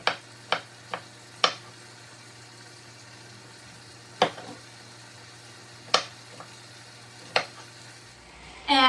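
Knife slicing fresh strawberries for a salad: several sharp, separate cuts spaced unevenly, close and fairly loud against a quiet kitchen background.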